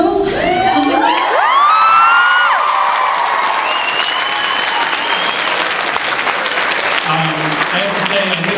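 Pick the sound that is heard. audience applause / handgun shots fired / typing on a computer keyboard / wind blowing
audience applause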